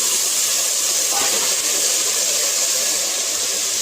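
Three large cut pieces of drumstick (moringa pods) go into a hot pan for a vegetable masala curry, giving a loud, continuous sizzling hiss that stays steady up close with no talking.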